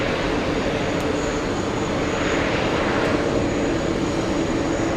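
A Delta Airlines Airbus A330-300 jetliner at New York's JFK airport gives off a loud, continuous broadband engine roar, steady and unbroken with no voices over it.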